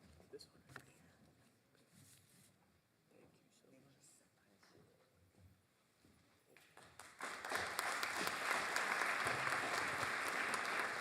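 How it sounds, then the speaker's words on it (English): Applause from an audience at an awards night swells up near the end, a dense, loud clatter of many hands following quieter stretches of a speaker's voice. "Please give them a nice round of applause."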